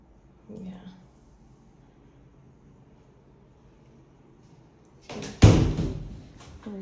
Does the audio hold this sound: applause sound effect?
no